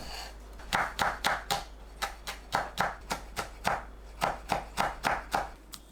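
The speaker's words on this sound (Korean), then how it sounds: "청양고추, 홍고추는 반 갈라 씨 빼고 작게 썰어주세요." A knife chopping halved, seeded Cheongyang and red chili peppers into small pieces on a cutting board, a quick, even series of crisp taps in short bursts, close and clear with no talking.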